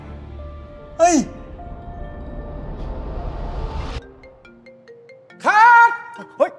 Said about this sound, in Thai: เฮ้ยมือถือใครวะ